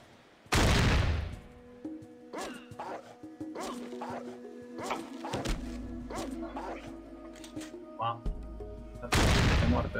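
Gunshots ring out in the video game Fallout 1: a few sharp, loud cracks, one near the start and another near the end, with quieter game sounds and brief impacts in between.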